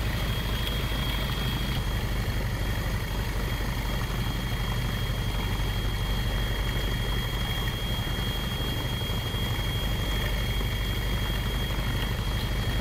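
An RC model airplane engine drones steadily during its landing approach with the throttle eased back and flaps down, a constant, buzzing hum heard outdoors at moderate distance under a wash of wind noise.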